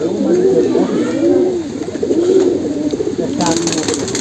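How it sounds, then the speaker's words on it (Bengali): Flock pigeons coo in a repeated, rolling pattern of about four soft, throaty calls, close and fairly loud over a busy background, with a voice talking faintly at times. "এই আপনার ঝাক কবুতরটা"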